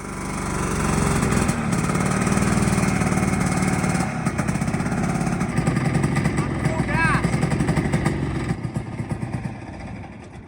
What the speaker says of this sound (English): The engine's running so much better.